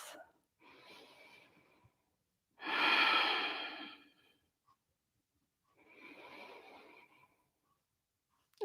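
Slow, deep breaths during a hatha yoga pose: a long inhale, a fuller loud exhale, then another softer breath, each close and airy with quiet pauses between.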